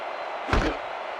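A kickoff in the ESPN NFL 2K5 football video game, Titans versus Panthers: one solid thump of the boot striking the ball rises briefly over steady stadium crowd ambience.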